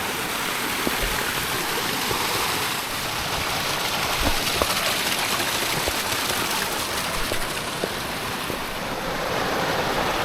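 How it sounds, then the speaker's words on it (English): A waterfall cascade on the Mosedale Falls scramble in Swindale in the eastern Lake District, a loud continuous rushing roar of falling water, close and steady throughout with no voices. "What a beautiful cascade."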